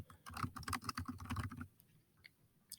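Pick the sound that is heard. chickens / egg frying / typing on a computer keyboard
typing on a computer keyboard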